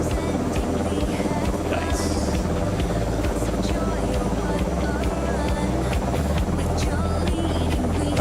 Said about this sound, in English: V-22 coming in.